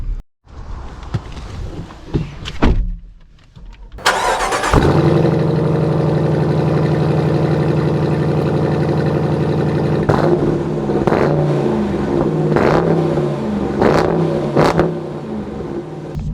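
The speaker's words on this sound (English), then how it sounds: "I think you guys can probably tell from the exhaust clip, it sounds a heck of a lot better" A 2024 Dodge Durango R/T engine cranks and fires up into a loud steady idle, followed by several sharp exhaust revs in a rhythmic series, close by.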